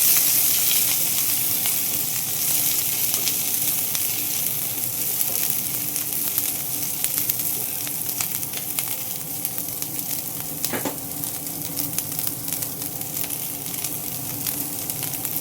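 Amaranth stalks hit hot oil in a pan and sizzle loudly and continuously, a dense crackling hiss that fades a little but never stops, with no voices.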